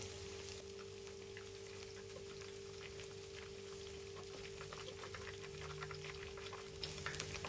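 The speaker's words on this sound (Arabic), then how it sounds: "رح اقلي قسم كتير صغير عشان انا بدي اياهم بالفرن افضل" Qatayef pancakes frying in hot oil, a faint steady crackle and sizzle with a low constant hum beneath, no talking.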